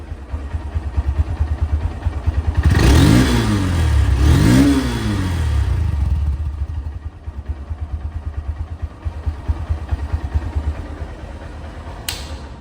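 Up close, a 2024 Honda Hornet CBS motorcycle in showroom condition idles with a steady rumble, then gives two sharp throttle blips that rise and fall before it drops back to idle.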